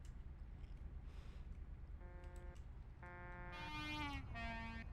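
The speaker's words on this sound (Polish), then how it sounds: "Ej, on ma fajniejszy trąbik." Truck horns honk in Euro Truck Simulator 2 multiplayer on a night drive to Romania, several short, faint horn blasts in quick succession, the last ones sliding down in pitch, over a low engine rumble.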